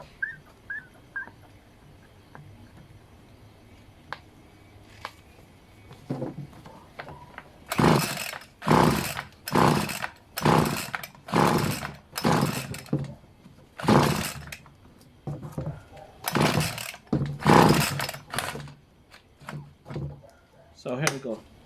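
A Homelite HLT25CS string trimmer with a damaged starter cord is pull-started repeatedly, about a dozen sharp ripping pulls in quick succession, close and loud, with a person talking briefly before the pulls.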